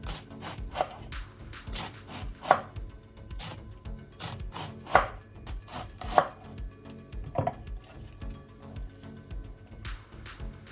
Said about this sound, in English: Now I'm going to chop them in the sizes that I like